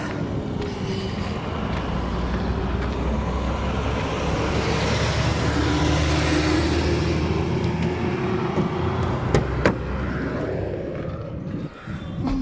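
A vehicle travels along a highway between Bengaluru and Tirupati, giving a steady, loud road rumble with tyre and wind noise and passing traffic, with faint clanks near the end.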